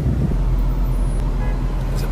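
A Porsche sports car moves along a city street in Germany, where a tram is also running, with a close, continuous low engine rumble and road noise throughout.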